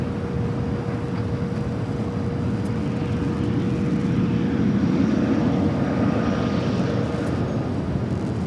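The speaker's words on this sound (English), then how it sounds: "777 to 300 ER coming in from London Heathrow" A Boeing 777-300ER airliner arriving from London Heathrow at LAX, a steady broad jet engine roar with a faint whine, swelling slightly in the middle and sustained throughout.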